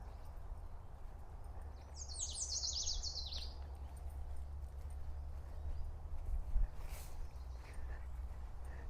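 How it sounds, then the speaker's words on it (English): A quick burst of high bird chirps rises briefly over a low outdoor rumble, with faint clip-clop sounds in the background. "hear all the birds? The birds are nice, eh?"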